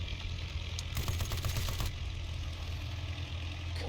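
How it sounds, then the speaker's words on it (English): A biplane engine in the Aces of Thunder video game drones steadily at a low pitch and moderate level, with no voices over it. "And I'm going to overheat my engine."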